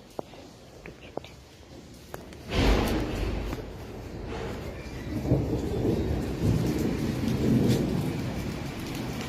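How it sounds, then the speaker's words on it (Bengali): Heavy rain pours steadily with a deep roll of thunder that swells after a quiet start and keeps rumbling under the dense downpour, with faint whispered voices. "আর এখানে সকাল 7টা থেকে খুব বৃষ্টি হচ্ছে"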